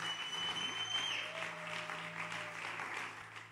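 A church congregation applauds steadily for several seconds, the clapping dense and fairly close, with a faint sustained tone and a low hum behind it.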